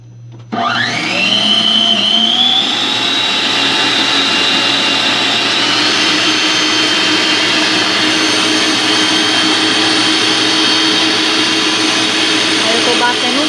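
An electric mixer starts up and beats eggs, sugar and oil for a cassava cake, a loud steady whine that rises in pitch as it spins up and then holds for over ten seconds, close by.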